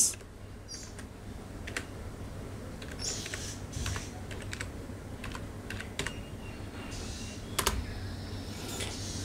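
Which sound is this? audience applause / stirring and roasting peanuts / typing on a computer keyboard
typing on a computer keyboard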